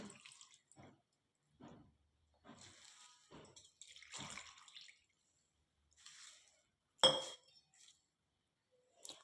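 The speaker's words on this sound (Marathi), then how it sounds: "आता आपल्याला हे पोहे एक दोन पाण्याने स्वच्छ धुवून घ्यायचे आहेत" Flattened rice (poha) is rinsed in water in a bowl, heard as quiet, intermittent sloshes and splashes with a sharp clink of a utensil partway through and silence between.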